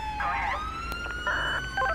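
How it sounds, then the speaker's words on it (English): A wailing police car siren in the video game GTA 5 rises and falls in repeated electronic sweeps, loud and close, over a steady low rumble. "Turn off your damn siren."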